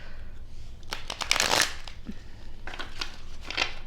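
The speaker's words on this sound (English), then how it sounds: "Do 3 shuffles." Tarot cards riffle and slap together in a few quick shuffling bursts, close and crisp, with brief pauses between them.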